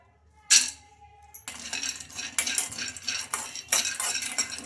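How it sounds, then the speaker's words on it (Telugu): Peanuts are poured into a kadai for dry roasting, giving a sharp rattling clatter, then a steady close scraping and stirring of nuts against the metal pan for several seconds. "కడాయి అయితే పెట్టేసుకొని అందులోకి వేయించుకోవడానికి పల్లీలు అయితే వేసుకోవాలి"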